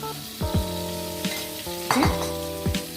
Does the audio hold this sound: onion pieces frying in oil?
yes